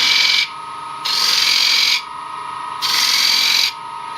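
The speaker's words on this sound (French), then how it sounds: "je fais une petite trace pour le décorer un petit peu avec un autre outil. Voilà, je fais un petit cercle." A wood lathe tool cuts a decorative ring into a wooden bowl on the lathe, giving three raspy, fairly loud scraping bursts that alternate with quieter stretches of spinning hum. No one speaks.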